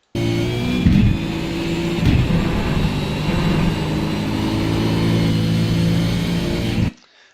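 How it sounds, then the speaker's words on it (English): A car engine pulls hard and steady on a downhill right-hand corner of a race circuit, shifting from third into fourth gear. The loud, continuous roar has brief dips near the start, then cuts off abruptly at the end. "Now this downhill right, third gear going into fourth gear, slight lift and turn in"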